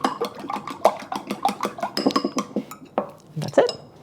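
Three eggs lightly beaten in a bowl: quick, uneven clicking taps of a utensil against the bowl with soft wet swishes between, close and moderately loud, with no talk.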